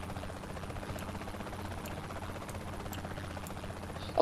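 A helicopter in the video game Saints Row: The Third gives off a steady, moderately quiet rotor hum and buzz throughout, rising briefly at the end.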